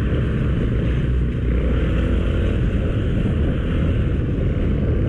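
A motorcycle rides through congested street traffic in Mandaluyong, with a loud, steady engine and road rumble filling the whole stretch and no talking over it.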